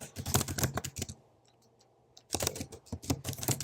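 Rapid typing on a computer keyboard, dense clusters of close, crisp key clicks, a pause of about a second with faint scattered taps, then another fast burst.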